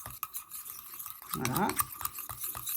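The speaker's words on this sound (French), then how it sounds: "donc je mélange, je touille, je cambouille" A utensil stirs and scrapes through a bowl of homemade toner lotion ingredients for oily skin, with soft swishing and clinks close by, and a voice speaks briefly over the mixing.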